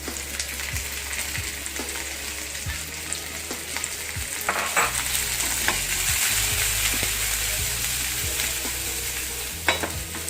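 Sliced onions hitting hot oil with ginger and garlic for mutton Kolhapuri, a dense continuous sizzle that swells partway through, with occasional soft stirring clicks, close and steady.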